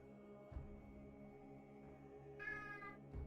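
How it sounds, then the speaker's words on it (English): A house cat gives one brief meow, faint and somewhat distant, over a low steady hum with a couple of soft thumps. "Cat alert."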